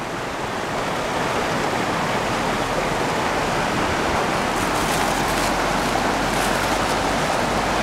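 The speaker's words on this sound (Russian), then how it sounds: "Вот такая река Березовая." The Berezovaya river rushes through a gorge in Kislovodsk, a steady, loud wash of flowing water that fills the whole stretch without pause.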